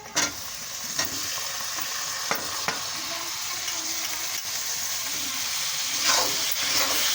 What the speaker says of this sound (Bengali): এখন আমি টমেটোটা ঢেলে নেব।